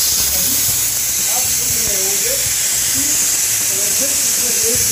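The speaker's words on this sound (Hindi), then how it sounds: "अभी चल रहा है हमारा प्रेशर कुकर" Pressure cooker on a home stove vents a loud, continuous steam hiss that fills the whole stretch, with a few faint voices underneath.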